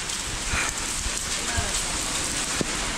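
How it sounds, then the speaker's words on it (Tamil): Heavy rain pours steadily on the walking path up to Tirumala, a dense, loud, unbroken hiss with scattered heavier splashes and no voices. "நீங்க பாத்தீங்கனாலே தெரியும் எவ்வளவு மழை பெய்யுது."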